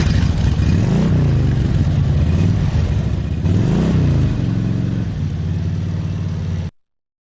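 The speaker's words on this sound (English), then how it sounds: "Motorcycle." A motorcycle engine revs up and down in two loud, close swells over a steady running drone, then idles briefly before cutting off abruptly.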